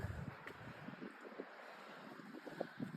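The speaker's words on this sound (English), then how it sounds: "Sounds windy, but it doesn't feel too windy" Wind buffets the microphone in low, uneven gusts, with faint scattered rustling and no voices.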